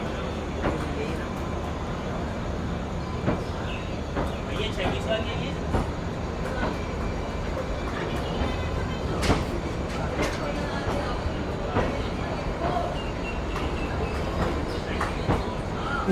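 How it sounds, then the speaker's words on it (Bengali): A deluxe train stands or moves at Kalka station, with steady rumbling rail noise and occasional clanks and screeches, while people talk nearby. "এই দিকে দেখতে পাচ্ছি এইটা কিন্তু একটা ডিলাক্স ট্রেন"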